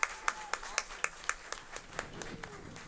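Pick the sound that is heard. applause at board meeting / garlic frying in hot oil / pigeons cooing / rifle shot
applause at board meeting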